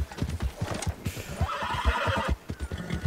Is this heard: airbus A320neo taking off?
no